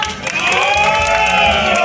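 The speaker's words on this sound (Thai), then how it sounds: "ปรบมือนะครับ" An audience at a prize lottery ball draw breaks into loud cheering and applause, a dense burst of clapping and shouts close by, with ringing tones running underneath.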